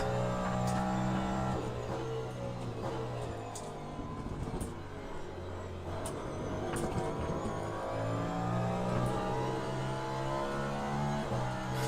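Race car engines in a racing video game with GT cars, Porsche among them, drone and rev steadily as the pitch climbs and drops through the gears. The sound is continuous and fairly loud with no voices.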